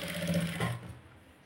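A sewing machine runs steadily while stitching a princess-cut blouse, its needle mechanism whirring close and loud for just under a second before stopping.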